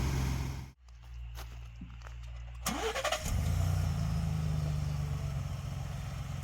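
A 2021 Ford Bronco fitted with powered folding running boards: a soft click and brief whir, then the engine cranks and catches at about three seconds and settles into a steady, close idle, with no talking.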